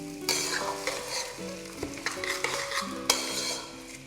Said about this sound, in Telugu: ఈ రైస్ వేపుతాం అనమాట